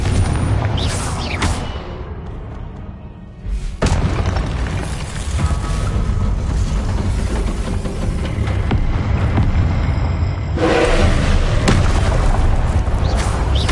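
Confringo fire spells in Hogwarts Legacy set off a continuous loud barrage of booming explosions and rumbling blasts, with a brief lull before fresh heavy bursts.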